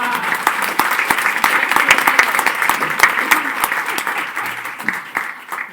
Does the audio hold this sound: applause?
yes